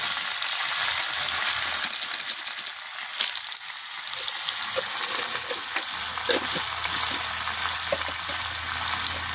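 Vegetarian soybean curry seasoned with garam masala sizzles and fries steadily in a pan while it is stirred, with scraping strokes of a spoon cutting through the dense hiss at close range.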